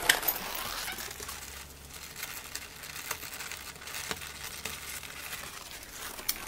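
Leather fountain pen case from The Superior Labor being rolled up and handled, giving soft continuous crinkling and rubbing with faint pattering ticks, close and fairly quiet throughout.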